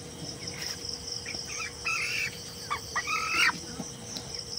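Broiler chickens about 25 days old clucking in a poultry shed as they are lifted for weighing, several short squawky bursts over a constant buzz of insects and fans.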